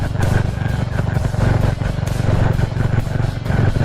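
Honda Wave 110i motorcycle with a 54 mm piston, stock stroke and a tuned racing cam, being ridden: a loud, steady engine thrums with a fast, throbbing beat, close up and continuous.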